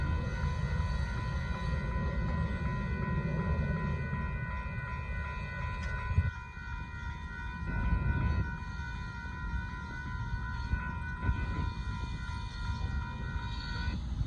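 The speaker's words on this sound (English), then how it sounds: "there goes the Union Pacific gravel train passing by" A northbound Union Pacific gravel train rolls past close by, a steady loud rumble of wagons and wheels with sustained tonal hums running the whole time and no talking.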